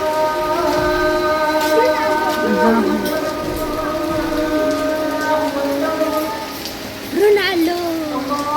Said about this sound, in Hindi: फुल हो रही है बारिश।